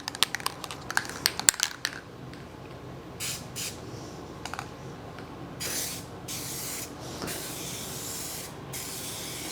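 Short bursts of spray paint hiss as thin coats go onto a square-body truck's dash, several separate sprays of a second or two each with pauses between, close and fairly loud.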